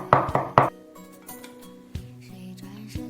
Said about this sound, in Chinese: 切成末。